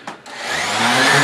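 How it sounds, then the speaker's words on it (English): A Porter Cable rotary sander starts up on a sci-fi guitar during inlay work, a couple of brief clicks giving way to a rising, loud whirring drone that swells and holds close by. "my favorite tool, my Porter cable rotary"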